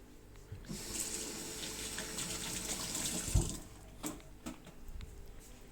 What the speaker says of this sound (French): je vais me laver les mains